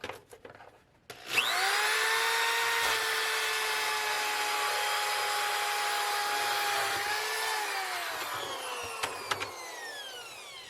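A power drill whines steadily for several seconds, drilling a vent hole in a plastic bin, its pitch holding then dropping as it winds down, with grinding texture and a few sharp knocks near the end.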